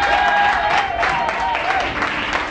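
A church congregation claps and cheers loudly in a sustained burst of applause, with a voice carrying over the crowd.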